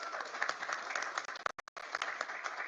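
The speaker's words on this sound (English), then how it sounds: "You can clap. It's okay." Applause from a press conference audience, a dense wash of many hands clapping that briefly cuts out and then resumes.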